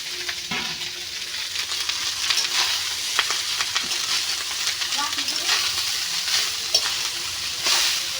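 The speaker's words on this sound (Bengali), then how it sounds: "ভাতটাকে হালকা ভেজে দিব" Cooked rice is lightly fried in a pan for a home-style biryani, giving a steady sizzle with scattered crackles and spatula scraping throughout, close and moderately loud.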